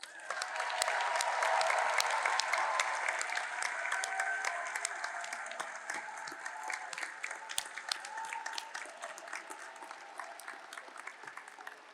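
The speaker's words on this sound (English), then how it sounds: "please remain standing as we give you one final round of applause" A large audience gives a final round of applause for graduates at the UC Berkeley School of Information commencement in May 2022, steady dense clapping that slowly thins and fades over about twelve seconds.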